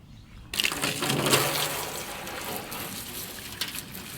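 Water gushing from a hose or tap to wash out a wheelbarrow outdoors, starting abruptly after a quiet moment and running steadily, loud and close, with no talking.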